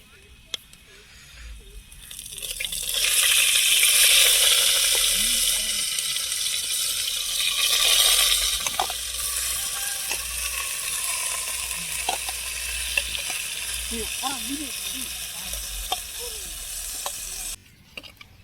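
Grated pumpkin for traditional kasi halwa sizzles in a pan as water boils off and it is stirred, a loud hissing fry with scraping, while a person talks over it.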